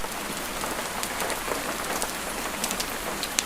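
Rain falls steadily on a Scottish cottage, a dense even hiss sprinkled with crisp individual drop taps, near and unbroken by any voice.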